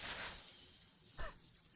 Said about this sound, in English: The delayed shatter sound effect.